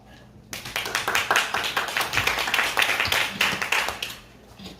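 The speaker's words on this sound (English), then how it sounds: "Please give him a big applause." A room full of people at an international sports conference in Seoul claps steadily for about four seconds, the applause starting abruptly and tapering off at the end.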